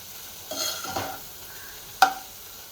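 A spoon stirs vegetable curry with amchur powder frying in a pan, giving a few soft scraping stirs and a light sizzle, ending in one sharp clink against the pan.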